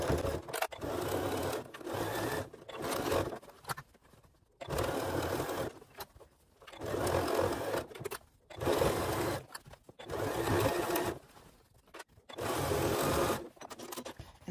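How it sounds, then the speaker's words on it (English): A sewing machine stitches around the top of a fabric bunny Easter basket with a 1/4 inch seam allowance, running in steady whirring bursts of a second or two with short pauses between, close and without talk. "I'm going to stitch all the way around the top using a 1/4 inch seam allowance."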